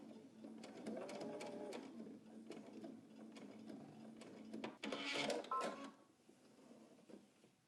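A sewing machine stitches a jacket's lining and welt in short bursts, with mechanical clicks and whirring, fairly faint and uneven, and a louder rattle partway through.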